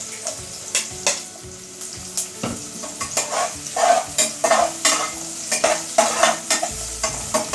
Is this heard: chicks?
no